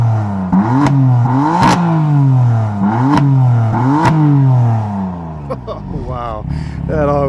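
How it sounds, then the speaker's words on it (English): A 2016 BMW M4 revved at the rear while parked, several sharp blips of the engine climbing and falling through its exhaust, loud and close, then settling to a rough idle. "So let's go ahead and head to the back with a little rev time with Vanessa."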